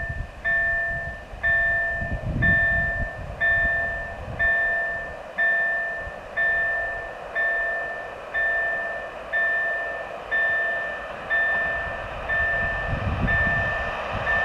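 A Polish passenger train approaching on a curved line near Kozłów rumbles steadily and close, with a rhythmic, pulsing wagon noise and a sustained high squeal of wheels on the curve throughout, no voices.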